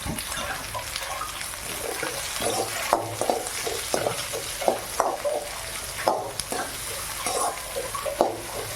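Onions frying in a pan for a crab masala gravy, with a steady sizzle and irregular scraping stir strokes close by, and no talking.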